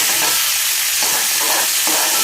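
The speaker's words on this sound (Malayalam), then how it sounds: "പച്ചമുളക്, ഇഞ്ചി, വെളുത്തുള്ളി എല്ലാം കൂടി ഇട്ട് വഴറ്റിയെടുക്കാം" Onion, green chili, ginger and garlic sautéing in a hot pan for a tapioca dish, a continuous loud sizzle with rhythmic stirring scrapes every second or so, no voices.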